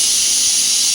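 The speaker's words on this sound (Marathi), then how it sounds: "आता कुकर शिट्टी मारतोय" A kitchen pressure cooker on the stove hisses steam in a steady, loud, unbroken whistle-like rush for the whole second, with no voices.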